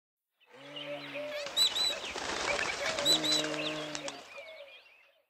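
A bird takes off from a deep, dark wood with a fluttering burst of wingbeats, mixed with cooing and chirping calls over a few seconds.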